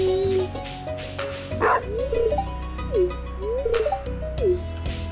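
A dog in a farming video game, likely Stardew Valley, gives several short yips and whimpering barks, each a little rising call, over steady background game music with occasional clinks.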